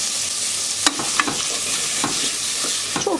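Meat sizzling in hot oil in a cooking pot while a spoon stirs it, with irregular scraping clicks and knocks over a continuous frying hiss.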